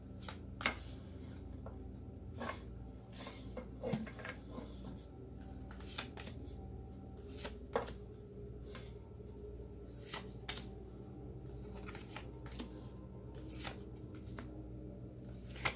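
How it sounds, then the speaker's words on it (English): Tarot cards are laid out one by one on a table for eleven cards, giving soft repeated slaps and slides at irregular intervals, close and quiet, with no talking. "laying out 11 cards"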